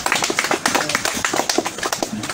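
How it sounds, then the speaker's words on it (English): Applause at a university graduation ceremony held outdoors under a mango tree, as an honorary doctorate is conferred: dense, rapid hand claps in a steady patter, fairly close and loud, with no talk over them. "Give him a round of applause."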